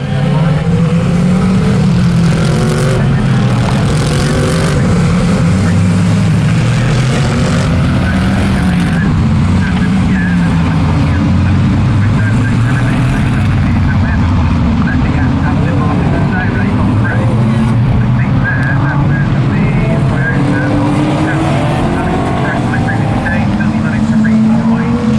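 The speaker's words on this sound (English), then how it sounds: "the Mercedes AMG and the Aston Martin Vantage especially sound so gritty" Mercedes AMG and Aston Martin Vantage GT3 race cars at Oulton Park circuit, engines roaring and shifting pitch continuously as they pass, loud and gritty, with crowd and ambient noise underneath and no talking.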